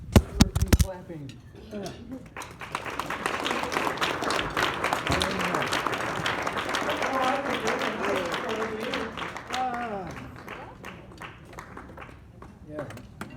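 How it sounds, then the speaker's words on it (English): Applause from an audience at a land trust easement celebration in Iowa, a dense steady patter lasting most of the span with clinking of dishes and cutlery mixed in, and people talking over it. "Clapping."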